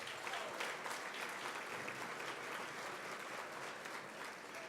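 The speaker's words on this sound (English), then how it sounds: "So let's give a round of applause to each of our colleges." Steady applause from a dinner audience at a college foundation event, a dense even wash of many hands clapping continuously at moderate distance, without a break and with no speech over it.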